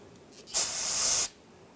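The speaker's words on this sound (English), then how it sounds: "You can spray some on the rag and then just wipe down the surface area on the differential." Cleaner sprayed onto a rag while servicing the rear differential of a 2011-2018 Ram 1500: a single close, steady hiss of about three-quarters of a second, heard alone in a quiet space.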